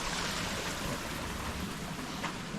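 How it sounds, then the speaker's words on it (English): Small waterfalls in a canyon rush with a steady, broad wash of falling water, even and moderately distant, with no voices. "Such a beautiful waterfalls, little waterfalls."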